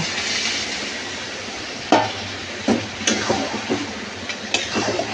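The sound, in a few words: mixing boiled mung dal with spiced fish heads in pan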